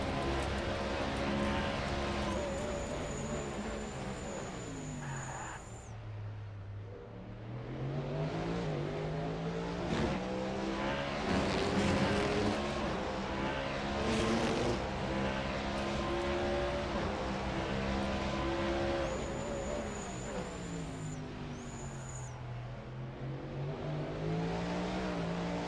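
Race cars in the Bahrain 2.4h come down pit road, engines revving loud and close, pitch sweeping down then climbing as cars pass and accelerate away, with a steady high whine throughout.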